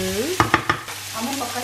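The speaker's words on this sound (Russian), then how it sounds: "Ну вот, собственно, там где-то обжаривается." Beef frying in a pan for beef stroganoff, a soft steady sizzle with a few sharp stirring scrapes near the start, close and alone.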